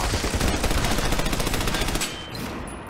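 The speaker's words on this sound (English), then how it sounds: "Shoot from behind cover and toss grenades at the target." Gunfire in the shooter game Army of Two: The Devil's Cartel comes as a loud, rapid automatic burst for about two seconds, then cuts to a quieter tail.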